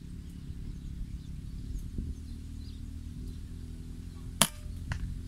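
A single sharp air rifle shot cracks out during pest control on a dairy farm, one brief loud report against quiet outdoor ambience with faint bird calls and a softer click shortly after.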